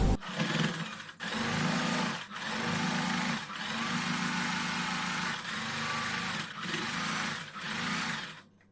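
A domestic sewing machine stitching the side seam of a girls' summer dress, running in steady whirring bursts with brief pauses between them, close and clear, no talking.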